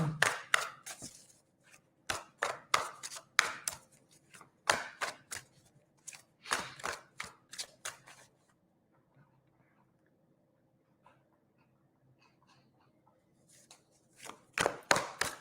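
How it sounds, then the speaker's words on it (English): Tarot cards are shuffled in bursts of crisp, rapid riffling and slapping, close and fairly quiet, with a long pause of near silence before the shuffling resumes at the end. "Giving these a good shuffle."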